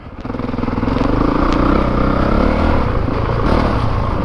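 A Honda CRF450RX dirt bike is ridden hard, its loud, close engine building from a rising rev into a sustained raspy drone with rapid throttle pulses and small surges.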